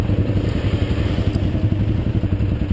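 A motorcycle engine drones loud and close as the bike churns through mud, with steady revving broken by clattering thumps and crackles throughout.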